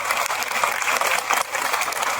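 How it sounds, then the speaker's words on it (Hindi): Loud audience applause at a Jain pilgrimage committee gathering in India, vigorous dense clapping that fills the whole short stretch close to the microphone. "बस जोरदार तालियों के साथ"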